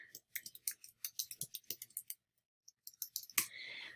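Quick keyboard typing plays in irregular bursts of light clicks, pauses briefly, then resumes before a sharper mouse click, all close up and quiet with no talk.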